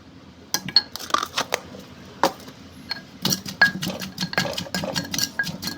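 Utensil scraping and clinking against a bowl as a Thai-style seasoning mixture with fermented fish sauce is stirred and mixed, giving irregular bursts of clatter and knocks close by with short pauses between.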